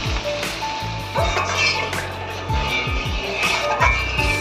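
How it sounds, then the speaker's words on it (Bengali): Fried spice masala sizzling loudly in a pan for a Bengali doi tilapia fish curry as water goes in, with bursts of crackling and scraping stirring strokes. "এবার আমরা এতে পরিমাণ মতন জল অ্যাড করে দেবো, যতটা আমাদের ঝোলের প্রয়োজন।"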